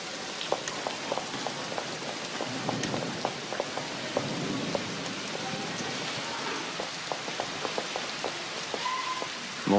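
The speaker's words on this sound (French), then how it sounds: "la lourde pluie d'orage qui le transperçait" Heavy thunderstorm rain pours steadily close by, with dense hiss and scattered sharp drips and taps landing on surfaces throughout.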